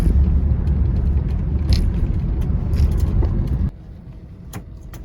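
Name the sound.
Cadillac Eldorado car driving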